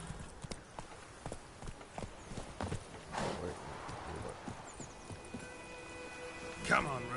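Roach the horse's hooves clip-clopping at a walk in the video game Witcher 3, a steady near rhythm of hoofbeats, with someone talking over it.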